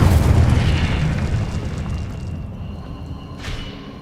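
A deep, booming fire-spell explosion from Hogwarts Legacy bursts loudly at the start and rumbles away into a fading tail, with a smaller pop near the end.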